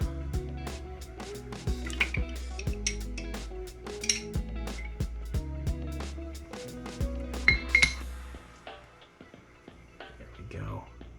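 Hot swimbait molds are cracked open and handled, giving close clinks, knocks and hard taps in an irregular rhythm while a voice talks throughout.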